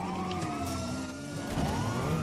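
Police car siren in a video game wails with a rising and falling tone over engine noise, fairly faint and mixed with background game sounds, no speech.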